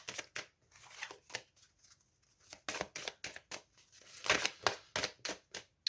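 Tarot cards are shuffled for a reading in a series of quick, close riffling bursts separated by short pauses.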